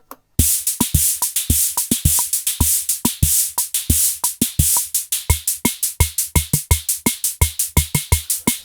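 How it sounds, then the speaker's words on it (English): Maestro Rhythm King vintage drum machine playing a rhythm pattern, loud punchy kicks and crisp hissy snare and hi-hat hits in a steady, busy groove that fills out with a ringing tone in the second half. "So this is the Maestro Rhythm King"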